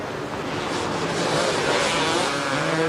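Racing cars roar along a beach race track during a 1989 festival, a broad, continuous engine din blended with wind and surf-like noise, fairly distant and steady throughout.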